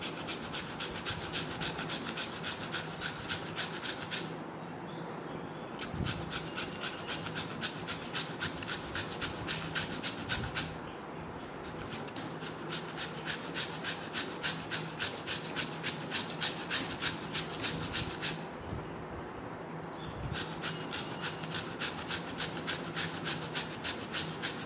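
Potato peel scrubbed over facial skin, making a soft continuous rasping rub with steady rhythmic strokes and a few brief pauses, close and fairly quiet, with no talk.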